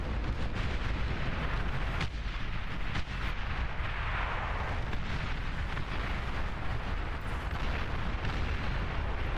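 Dense, continuous rumbling explosions and artillery-like booms from the real-time strategy game Beyond All Reason, with repeated sharp blasts layered over a heavy, steady roar of battle, loud and unbroken throughout.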